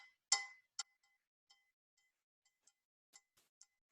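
A cowbell sample is thrown around the listener with a Doppler effect at roughly 1.5 meters. It gives one bright, loud clink, then a series of short, fading metallic ticks spread over a few seconds.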